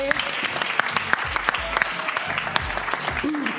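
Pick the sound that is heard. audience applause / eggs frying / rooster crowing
audience applause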